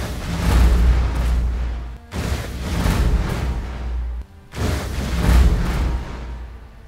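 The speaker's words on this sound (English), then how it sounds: "the boom of those 25 Void Shots is orgasmic" Repeated heavy booms of Void Shot projectiles exploding in the Path of Exile video game, three dense rumbling barrages back to back with brief gaps between them, loud and close.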